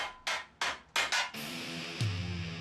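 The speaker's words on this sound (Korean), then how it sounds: "다양한 망치를 바꿔가며 은판을 두드려 조금씩 모양을 잡아갑니다." A hammer strikes a silver plate being shaped into a traditional Korean teapot, giving five sharp, close metallic blows in an uneven rhythm, then a ringing sustained tone and one more fainter hit.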